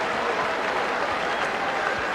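Crowd at a 1988 West Indies versus Pakistan one-day cricket match applauding a six, a steady, even wash of clapping from a large stadium audience, with faint talk under it.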